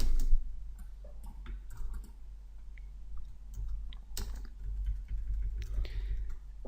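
Fingers typing on a computer keyboard while filling in a WordPress form, bursts of light clicking keystrokes with short pauses, close and moderately loud, no talk.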